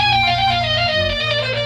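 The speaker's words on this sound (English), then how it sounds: "if you've ever wondered how I make my flute sound like this" A sustained flute tone played through guitar effects pedals, smeared by a heavy effect, with wavering, shimmering overtones and a low droning undertone, continuous and fairly loud.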